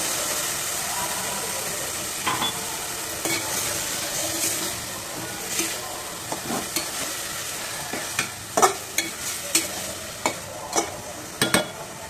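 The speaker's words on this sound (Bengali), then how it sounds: "এর মধ্যে আমি ফেটানো টক দইগুলো দিয়ে দিচ্ছি।" Beaten yogurt is stirred into chicken frying with capsicum, giving a steady loud sizzle under a spoon scraping and tapping against the pan, with the taps coming more often toward the end.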